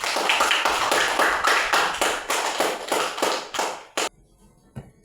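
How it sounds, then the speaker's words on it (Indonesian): An audience applauds a group representative at an Indonesian Bible lesson gathering: a quick run of about a dozen crisp, evenly spaced claps that stops abruptly, followed by a couple of isolated taps. "Tepuk tangan juga untuk perwakilan kelompok 1."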